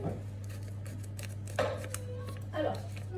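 Scissors snip near at hand in a home kitchen during chocolate truffle making, a few short crisp cuts over a steady low hum, with a voice talking quietly in the background.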